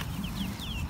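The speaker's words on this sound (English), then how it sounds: "And then there's some chickens that don't like me" Chickens on a farm give a few short, faint clucks and chirps against a low outdoor rumble.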